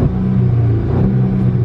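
An Audi S3 engine held in neutral gives a loud, close, steady rumbling drone with a slight rise in revs, heard alone without talk.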